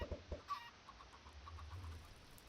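Chickens in the Minecraft video game cluck in a short series of soft, evenly spaced clucks at moderate distance, with no talking over them.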